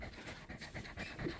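Close, rhythmic panting from a nervous dog at a veterinary clinic, quick repeated breaths in a steady pattern with no talking over it.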